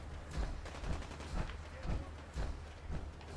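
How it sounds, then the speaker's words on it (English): Gunfire in Fallout 4 rattles faintly in the distance as repeated uneven bursts of muffled shots, soft and low throughout. "Someone doing a lot of shooting."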